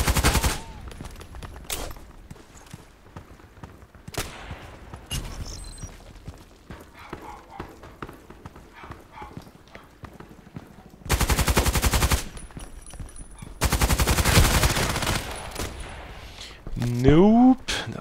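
Loud bursts of rapid gunfire in a sniper video game come in two long volleys, with scattered single shots and quieter game sounds between them, and a voice speaks at times.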